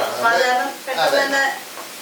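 Spice powders sizzle and are stirred in a hot pan for an egg dish, a close frying hiss running under a person talking.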